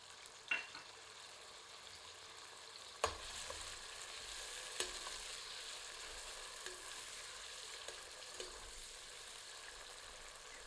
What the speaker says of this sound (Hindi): जैसे ही मशरूम भुन जाएं, तो मटर भी सम्मिलित करके इन्हें भी तल लेते हैं।